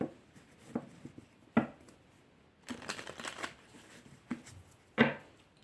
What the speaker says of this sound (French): on va demander à l'oracle de l'intuition une petite carte conseil.